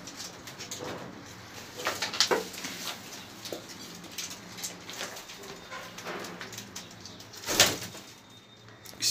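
Pigeons coo softly in an enclosed loft, with scattered rustling, shuffling and brief wing flaps, low and continuous.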